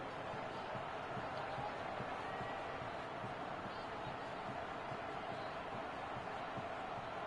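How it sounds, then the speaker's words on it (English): Dense, steady roar of a stadium crowd in a PS4 football video game ahead of a big third down, a continuous broad wash of noise with no pauses, sitting at a moderate level throughout. "The crowd getting into it as we come up on a big third down"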